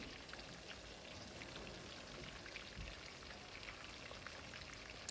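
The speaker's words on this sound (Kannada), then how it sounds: "ಈರುಳ್ಳಿನ ಚೆನ್ನಾಗಿ ಫ್ರೈ ಮಾಡ್ಕೊಳ್ಳಿ." Chopped onions and five or six chillies fry in a pan with a faint, steady crackle and sizzle that sounds like light rain, with no talking over it.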